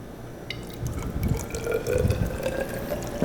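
Water being poured into a 100 ml graduated cylinder, a close, steady trickling splash that rises in pitch slightly as the cylinder fills, with no talking.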